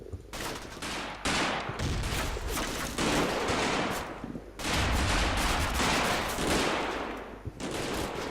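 Artillery shells burst and small-arms and machine-gun fire rattle across a Normandy battlefield in Combat Mission: Battle for Normandy, loud sustained volleys swelling in waves with brief lulls between, no voices over them.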